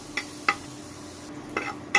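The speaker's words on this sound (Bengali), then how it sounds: "তেল ছাড়াই এগুলো শুকনো শুকনো করে তেলে নিতে হবে" Garlic is dry roasted in a pan without oil: a few sharp scraping stirs against the pan, spaced irregularly over a quiet background.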